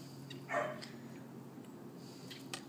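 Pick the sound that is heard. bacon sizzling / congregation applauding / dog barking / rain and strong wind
dog barking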